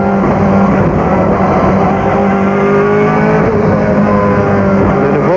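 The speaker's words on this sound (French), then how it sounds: "il faut de nouveau accélérer très très fort pour ressortir très vite de ce virage" A BMW M3 GTR race car accelerating hard out of a corner at Spa-Francorchamps, its engine roaring loud and close with a continuous high-revving drone and shifting tones, no voices over it.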